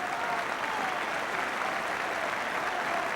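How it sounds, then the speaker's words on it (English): Football crowd at a Spurs versus Manchester United match applauding Hoddle, the number 10, a steady, dense roar of clapping that stays level throughout without a break. "And I think most of the applause is for the number 10"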